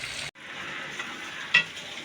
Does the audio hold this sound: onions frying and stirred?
yes